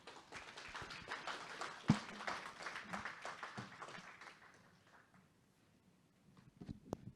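An audience at a business innovation summit claps after a speech for several seconds, a dense patter of hands that gradually thins out and fades to a few scattered claps.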